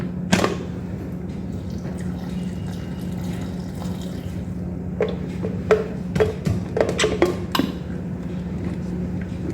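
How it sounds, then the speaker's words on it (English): Water is poured into lentil akara batter in a bowl, giving a brief splash followed by scattered clinks, drips and sloshing against the container over a steady low background hum. "So I'm going to add some water."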